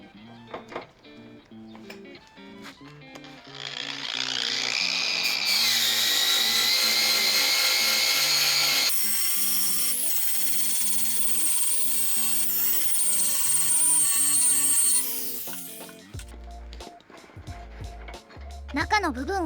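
Polishing a cast aluminum piece with a whetstone produces a steady, continuous grinding and rubbing noise that holds for most of the stretch, then cuts off near the end with a few scattered handling sounds.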